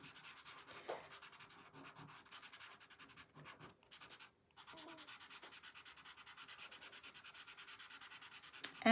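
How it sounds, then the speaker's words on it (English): A fingertip rubs and blends soft pastel across paper in a quiet, steady scratchy rub, close and faint, with brief pauses between strokes. "all I'm going to do is rub it with my finger"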